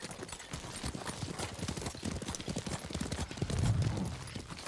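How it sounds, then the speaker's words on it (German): Horse hooves clip-clop steadily in Ghost of Tsushima as a mount rides toward a fortified fort, a quick rhythmic patter of moderate loudness over a dense game soundscape. "Kannst du mal dein Pferd in den Zaum halten?"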